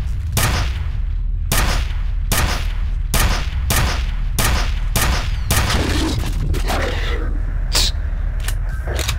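Gunfire in the video game F.E.A.R.: loud, close bursts of shots repeat at a rapid, fairly regular pace across the whole stretch, with debris and impact noises scattered between them.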